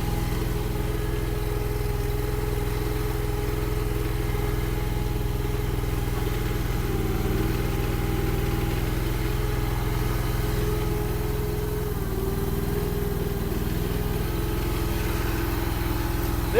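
A small engine on a cold, snowy day idles steadily after its choke is taken off, a loud, continuous mid-pitched hum and rumble holding even throughout without talk.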